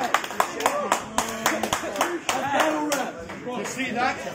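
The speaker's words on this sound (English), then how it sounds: "Clap it up!" A rap battle crowd claps along in loud, quick bursts while hyped voices shout and talk over the clapping.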